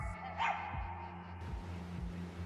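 A single dog bark sounds near the start in a dog show hall, brief and moderately faint over a low steady hum of the room.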